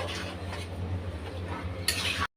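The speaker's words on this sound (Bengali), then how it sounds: "তো এই আলুটা দেওয়ার পরে আমি আবারও 5 মিনিট একটু ভালো করে কষিয়ে নেব" A spoon stirs and scrapes chicken, jackfruit seeds and potatoes in a pan as they fry together, with soft clinks and a quiet sizzle, ending in a brief louder scrape.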